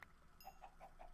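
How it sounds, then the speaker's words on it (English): Minecraft chicken clucking in the game, four faint short clucks in a quick, even rhythm under quiet background hiss. "I think if a chicken sees you kill another chicken, then the other chicken should run away"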